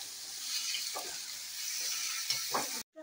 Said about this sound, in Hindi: देखिए डाल दिया ये आलू कढ़ाई में और अच्छे से इन्हें मिला लेंगे भून को